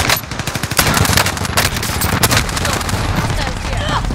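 Loud, rapid automatic gunfire in Call of Duty Warzone Resurgence, a burst of quick repeated shots close by followed by further scattered firing and echoing cracks, with a voice talking over it.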